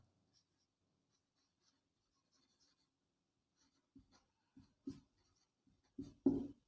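Marker or chalk strokes on a board while writing out a maths equation, faint scattered scratches that grow into several louder strokes near the end, close and with no talk.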